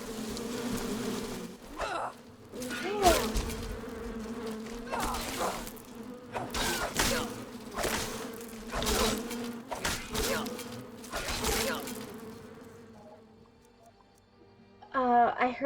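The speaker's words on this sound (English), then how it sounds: "I heard the sound of bees" Bees buzz in Skyrim, a droning hum rising and falling with bursts of louder buzzing, while someone talks over it at times.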